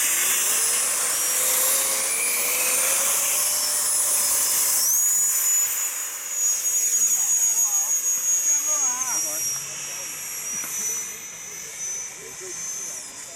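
An 80mm RC model A-6 attack jet spools up with a loud, steady high-pitched turbine whine that rises in pitch, with wind noise and voices talking over it at a formation takeoff.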